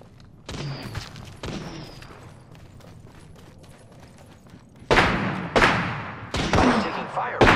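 Gunfire in the video game Apex Legends: two loud, sharp shots, a quieter stretch, then a fast series of heavy blasts with short echoing tails.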